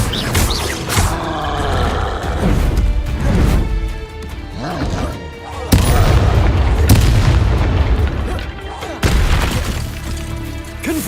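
Booming Confringo spell explosions in the Hogwarts Legacy video game, several loud blasts with crashing, shattering debris over combat noise, with a voice shouting over the action.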